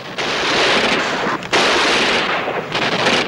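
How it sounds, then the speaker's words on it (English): Gunfire in a 1964 World War II TV drama, loud sustained bursts of shots, broken by a short pause and then resuming, with no talk. "Shots!"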